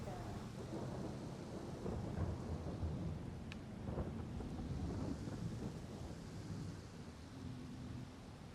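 Thunderstorm with steady rain, continuous broadband rumble and hiss throughout with a low thunder roll; fairly even and moderately loud, no talk.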